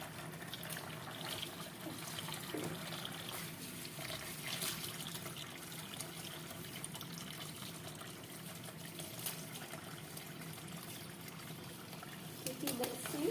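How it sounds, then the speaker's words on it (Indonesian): Tap water runs steadily while freshly picked leaves are rinsed and their stems pulled off in a village kitchen, a soft splashing stream with quiet handling noises and faint voices in the background. "ini tangkainya sambil dicuci bersih."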